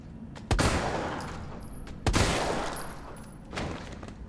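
Three heavy Magnum shots spaced about a second and a half apart in the survival horror game Resident Evil 3 Remake, each a loud booming blast with a long decaying tail, no talk.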